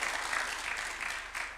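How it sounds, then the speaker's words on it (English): Audience applause at a Kenya-Japan development co-operation event at State House, Nairobi, a short steady burst of clapping from a seated crowd, fairly even throughout with no voices on top. "A clap for him,"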